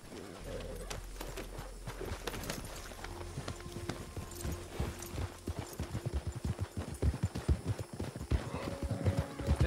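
Horse hooves clip-clopping in the Red Dead Online game, picking up from a slow walk to a quicker, louder gallop rhythm, with a brief whinny and faint speech in the background.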